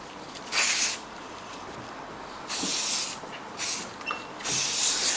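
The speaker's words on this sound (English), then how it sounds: "I'm just going to give it a little bit of a spray just to get a bit of stiffness" Four short, loud hissing bursts of hairspray sprayed up close onto hair, separated by brief pauses, the last burst lasting a little longer.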